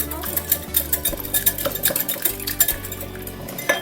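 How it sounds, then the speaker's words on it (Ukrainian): A utensil scrapes and clinks against a bowl in quick, irregular strokes as a thick mixture of egg and homemade sour cream is stirred close up for stuffed mushrooms. "Ось так гарно вимішуємо, щоб сметана з'єдналася"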